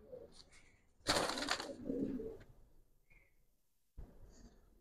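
Giribaz pigeons coo softly nearby, with a sudden burst of flapping wings partway through; no talking.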